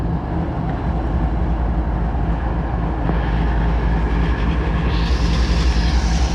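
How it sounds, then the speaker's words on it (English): A CSX train rumbles past on the main line in Louisville with a loud, steady low roar and faint clicking of the cars, growing brighter toward the end. "CSX on the main line."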